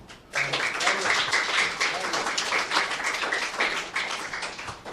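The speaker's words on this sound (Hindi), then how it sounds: "तालियां।" Audience applause at an evening of ghazal and qawwali, with dense clapping that starts abruptly and carries on steadily, a close crowd filling the room throughout.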